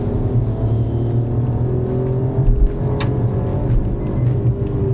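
A 2021 Maruti Celerio ZXI+ with a manual gearbox, its engine revving hard in second gear toward 6000 RPM, a steady loud drone heard from inside the car with a brief surge near the middle and no talk.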